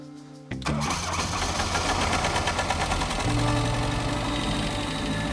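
An old Fiat 127 engine sputters into life after a brief crank, then runs rough and loud with a chugging, uneven idle like a tractor.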